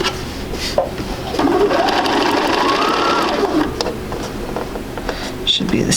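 A sewing machine runs steadily up close for several seconds as it sews down the edge of a quilt block, with a brief start and stop at either end.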